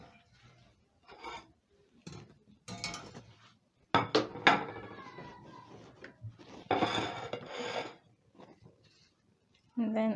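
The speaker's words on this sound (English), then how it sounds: "I'm going to be plating my plantain, which looks so good." Fried plantain being plated with utensils, with scattered clinks and scrapes against a plate coming in short bursts between spells of quiet, with a louder run of scraping and clatter in the middle.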